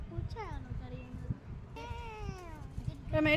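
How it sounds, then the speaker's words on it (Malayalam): A cat meows several times nearby outdoors during gooseberry picking: rising and falling wavering cries, with low voices and rustling underneath. "അതൊരു പൂച്ചയാണോ കരയുന്നത്?"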